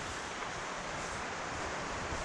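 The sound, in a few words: ocean waves at a surf beach on Vancouver Island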